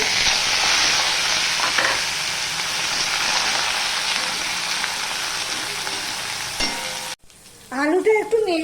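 Cut, washed potatoes with a little cumin sizzle and fry steadily in a hot pan, a dense continuous crackle with occasional stirring scrapes, ending abruptly into quieter background.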